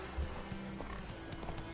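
Roach the horse gallops in Witcher 3, hooves clip-clopping steadily in quick rhythm, close and moderately loud over game ambience, with a brief whinny.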